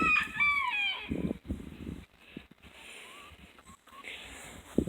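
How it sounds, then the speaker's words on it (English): A rooster crows and chickens cluck close by on a farm. Other birds add faint chirps, and there is soft background rustling. "Chickens."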